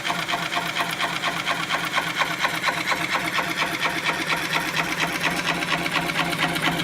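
A turning tool takes a fine cut on a spinning ash wood platter on a lathe, a loud continuous rasping whir with a fast, even pulsing rhythm and no talking.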